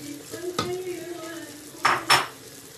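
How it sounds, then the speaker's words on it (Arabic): Meat frying in a small pot as the base for couscous: a soft steady sizzle under scattered metallic stirring scrapes and two sharper clinks of a utensil against the pot near the end. "ها هو اللحم ديالنا هنايا كيتقلى"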